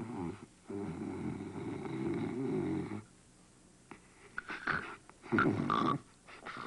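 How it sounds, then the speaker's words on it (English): Heavy, rasping snoring in slow repeated breaths, loud and close, with a break partway through followed by snorting, irregular bursts. "You're snoring like I've never heard anybody snore."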